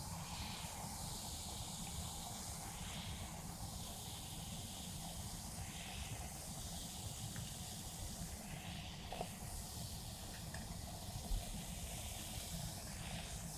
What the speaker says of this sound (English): Hear that fizz?